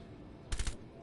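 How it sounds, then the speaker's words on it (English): Gunfire from a rooftop position in a competitive tactical video game match comes as two short, sharp bursts, the second briefer, over a low ambient hum. "Shots getting fired by the thermite from the roof"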